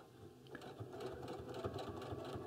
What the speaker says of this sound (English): I'm almost finished sewing down the binding.